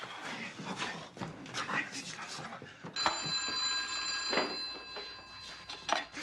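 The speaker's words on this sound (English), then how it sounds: "Maybe we should answer the phone." A telephone rings with a steady electronic trill, starting partway through, while people talk over it in the foreground.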